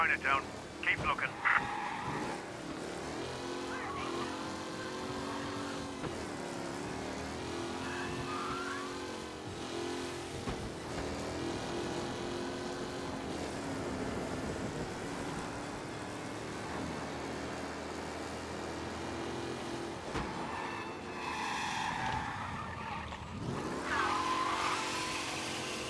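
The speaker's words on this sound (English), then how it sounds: "Officers reporting a race car driving at speed through the city." A race car speeds through city streets in the Mafia video game, engine droning and revving continuously with gear-shift swells, loud and close, while voices talk over the action at times.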